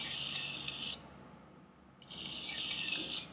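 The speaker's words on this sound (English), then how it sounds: "Why do I reverse my direction? Is because so that I can sharpen the back end well." Two long, steady rasping strokes of a thin-bladed kitchen knife drawn along a sharpener for a fine edge, with light to medium passes, separated by a short quiet gap and heard up close with no talk.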